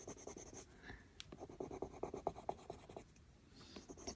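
Coloured pencil burnishing shadows on paper with medium pressure, a close, quiet run of short scratchy strokes in an uneven rhythm with brief pauses.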